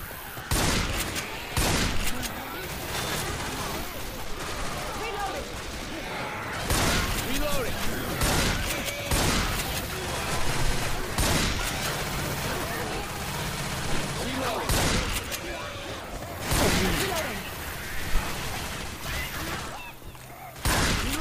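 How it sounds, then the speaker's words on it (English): Rapid bursts of gunfire from the zombie shooter Left 4 Dead 2 crackle almost continuously, loud and dense, with players talking over the shooting throughout. "Why the hell you guys keep shooting?"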